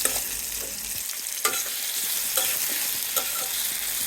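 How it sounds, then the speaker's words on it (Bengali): Chopped onion frying in oil until browned for an egg curry gives a steady, bright sizzle, with a few sharp spatula scrapes and taps breaking through at intervals, close and with no talk. "পেঁয়াজটাকে আমি একটু বাদামি কালার করে ভালোভাবে ভেজে নিব"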